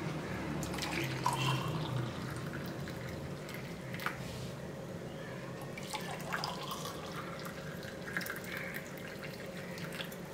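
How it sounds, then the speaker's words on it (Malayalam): Masala black tea is poured from a pan into a glass in a home kitchen, making a steady, soft liquid trickle that runs the whole time without talking. "അപ്പോൾ നമുക്കിനി ചായ ഗ്ലാസ്സിലേക്ക് ഒഴിക്കാം."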